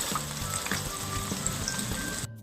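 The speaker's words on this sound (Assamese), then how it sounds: "এতিয়া মই মাছ ফ্ৰাই কৰি আছোঁ" Fish pieces frying in hot oil in a home kitchen give a steady close sizzle with faint crackles and pops, ending abruptly.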